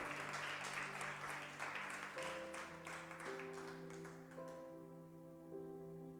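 A church congregation claps steadily together, loud and sustained, with an organ or keyboard holding chords underneath as the applause gradually thins.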